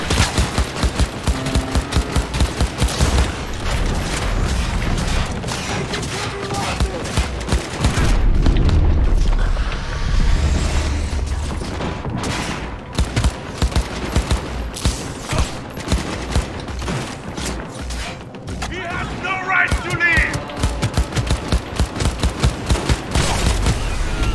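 Dense gunfire in the video game Cyberpunk 2077: rapid automatic bursts and single shots hammer on almost without pause, loud and close, with a short lull in the middle filled by a heavy rumbling boom.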